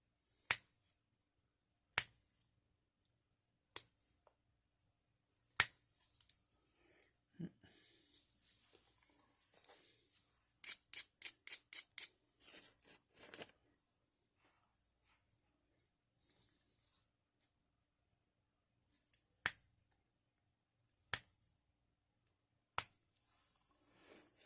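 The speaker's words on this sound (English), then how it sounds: "Now you can hear my pressure flaking, shooting them around" Sharp clicking snaps from pressure flaking glass off the bottom of a bottle, spaced single pops with a brief rapid burst of ticks in the middle, close and crisp against near silence.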